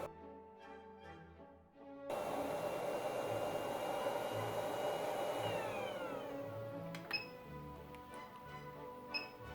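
An ATTEN ST-862D hot air rework station runs its fan at full speed to cool the heater, a steady close airflow roar like a hair dryer that starts abruptly after a faint tonal hum, with a few small clicks near the end.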